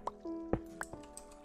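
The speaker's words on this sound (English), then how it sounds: "I hear water." Water in the Minecraft video game plays as a scattering of small, faint drips and liquid plinks with a brief bubbling squish, sounding quiet and close, with no talk over it.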